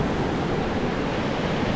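Sea waves at Bhandarpule beach, a rocky shore near Ganpatipule with coconut groves, make a steady broadband wash of surf that stays continuous and fairly loud throughout, with no distinct break or voice.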